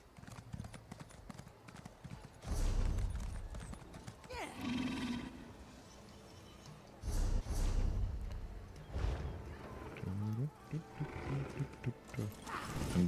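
A horse in Elder Scrolls Online galloping in loud bursts of hoofbeats, with neighs and snorts between runs, while a person talks over it.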